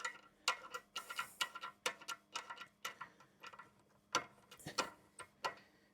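Lug nuts being hand tightened onto a Tesla Model Y wheel during a winter tire install make close, sharp metallic clicks and ticks in quick, uneven bursts, with quiet pauses between them.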